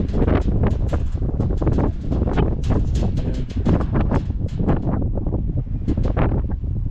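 Strong gusts buffet the microphone on a high windy spot, a loud, continuous roaring rumble that surges and dips without a break.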